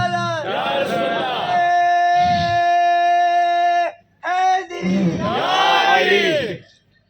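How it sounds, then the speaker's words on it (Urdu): A crowd at an Urs gathering for Zinda Shah Madar loudly chants a religious slogan for Mola Ali in long, sustained unison calls, pausing briefly before a final swelling shout. "مولا علی کا نعرہ تو لگانا ہی پڑتا ہے"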